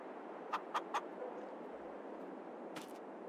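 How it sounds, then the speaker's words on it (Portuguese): Chickens in a coop in the video game Farm Simulator 22 give three quick clucks in a row, then a brief burst of clucking later, all quiet over a soft background hiss. "Tá muito bonita as galinhas."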